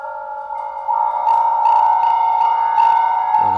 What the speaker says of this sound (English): that's maybe a little bit of self-oscillation too, but you can hear how like the Crucible was latching onto that and doing something with it